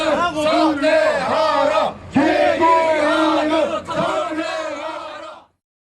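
A crowd of media union members mobbing two arriving directors, yelling and shouting insults at close range, a dense, loud wall of massed voices in sustained bursts with two brief pauses.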